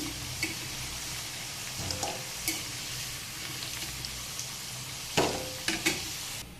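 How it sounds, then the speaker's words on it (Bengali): Potatoes frying in a pan for aloo bhaji, a continuous close sizzle broken by a few sharp clinks and scrapes from stirring, with no voices. "সকালবেলা আমি রান্না করার জন্য নিয়েছি আলু ভাজি। আলুটা ভাজি করে নিলাম।"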